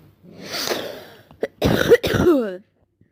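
Several harsh coughs from a person who is ill, close to the mic: a long rough burst, a short pause, then two more hacking coughs ending in a wheezy throat-clearing trail, with no speech.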